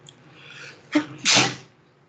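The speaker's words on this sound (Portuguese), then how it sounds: "Um espirro desse, hein?" A single loud sneeze close by: a quick breathy intake followed by a sharp, explosive burst that fades out.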